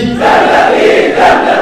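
A large crowd at a religious gathering shouts together in a loud, unified Urdu slogan chant, two bursts of voices rising back to back.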